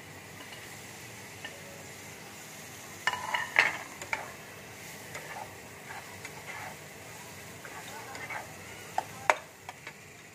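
Chopped green chillies and chilli flakes fry lightly in a pan with a soft, faint sizzle. Sharp ticks and utensil clinks break through it now and then. No one speaks.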